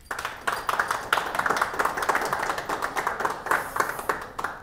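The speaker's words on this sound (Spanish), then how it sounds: "Por favor, un aplauso." An audience at a Spanish-language variety show claps for several seconds. The applause is fairly close, steady and of moderate size.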